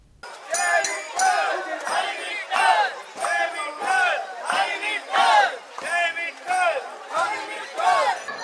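A crowd of devotees at the Chikhalkalo festival in Marcel, Goa, shouts in rhythmic unison, loud chanted cries rising and falling in regular bursts about every half second, close and energetic.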